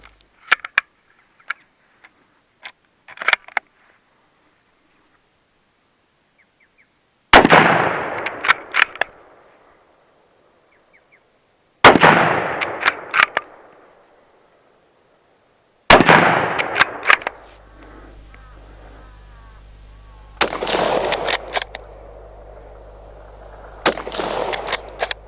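A Ruger Gunsite Scout rifle in .308 Winchester fires several loud, sharp shots several seconds apart outdoors, each followed by a short echoing tail and bolt clicks. A steady hum runs under the last shots.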